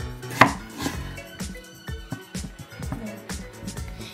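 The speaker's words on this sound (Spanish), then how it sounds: "Ahora vamos a cortar las verduras." A knife chops vegetables such as celery and carrot on a cutting board, with a steady run of close, crisp taps and a louder strike near the start.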